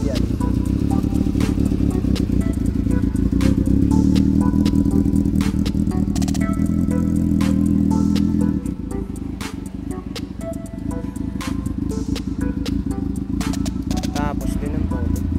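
A Honda Super Four motorcycle engine idles steadily and close by, a dense low rumble with light mechanical clatter running throughout, dipping slightly past the midpoint, while people talk over it.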